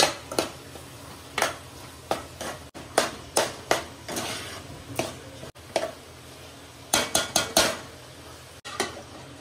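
A pot of sweet modak filling with cardamom and nutmeg gets handled and covered with its lid: a series of sharp metallic clinks and taps come in irregular bursts, close and crisp, over a faint background hum, with no talking.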